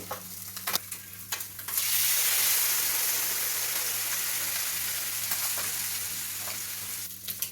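Horse gram curry cooks with fried onions, curry leaves, chilli powder, turmeric and salt. A few clinks give way to a loud burst of sizzling that hisses steadily and then slowly fades, with stirring taps near the end.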